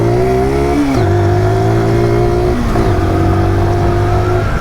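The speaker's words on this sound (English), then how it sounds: "if you actually wind the engine out, it does pick up" A Zontes Monster 125 motorcycle engine revving up close, pitch climbing through the gears with two clear dips at the shifts, loud and steady with no talking.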